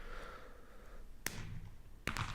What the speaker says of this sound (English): See how it has all those extra explosions in there?